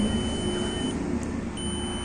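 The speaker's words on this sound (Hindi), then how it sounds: "अगर इस तरीके से मीटर को शॉर्ट करेंगे तो मीटर से साउंड आना चाहिए।" A multimeter in continuity mode gives a steady high beep when its probes are shorted together; the tone cuts out briefly midway and then resumes over a constant background hum.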